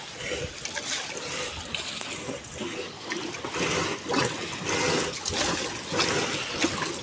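Steady rushing, splashing water with a continuous churning flow, moderately loud and close, with brief pulses of louder gushing throughout.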